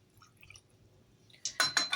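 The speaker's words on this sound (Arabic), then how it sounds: "وهنحط خل" Vinegar is poured onto salted, cut tripe being cleaned, giving a short splashy burst of liquid near the end after a quiet start.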